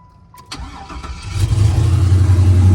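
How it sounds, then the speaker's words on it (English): Box Chevy Monte Carlo with a stage 2 cam and an upgraded fuel system catching on the first turn of the key: a short chime and click, a brief crank, then the engine fires and settles into a loud, rumbling idle. "Box Chevy firing right up. First hit of the key."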